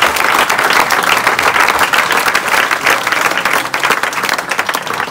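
Audience applause for about 160 volunteers at a charity swim challenge event, steady dense clapping from a crowd filling the whole stretch at a loud, even level with no talk over it.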